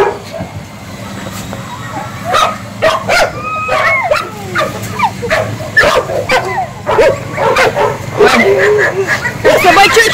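Several dogs yip, whimper and give short excited barks over cookies, close and loud in a busy overlapping stream, while someone talks to them.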